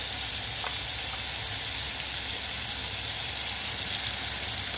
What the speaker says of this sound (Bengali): টমেটো তাড়াতাড়ি গলার জন্য আমি লবণ দিয়ে ভেজে নেব